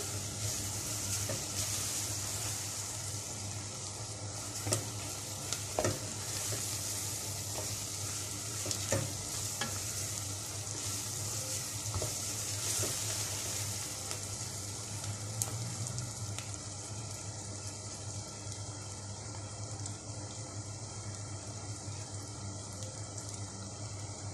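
Spices fry in a pan with a steady, dense sizzle throughout, broken now and then by light scrapes and taps of stirring, while a low background hum sits underneath.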